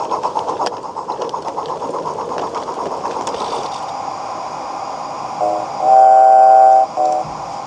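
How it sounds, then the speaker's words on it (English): A Peckforton Light Railway locomotive passing under a road bridge, with rhythmic chuffing beats fading into a steady mechanical hum and a brief, loud whistle-like tone near the end. "As it passes beneath the bridge carrying the Nantwich to Wrexham main road, the loco seems to be performing well."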